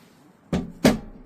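Two firm thuds about a third of a second apart as a cupboard door or drawer in a caravan kitchen with stone benchtops swings shut, close and fairly loud against a quiet room.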